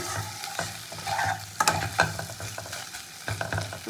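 Dragon chicken being stirred and tossed in a hot pan with its dry sauce ingredients, scraping spatula strokes and clanks over a light sizzle, close and busy throughout, no voices.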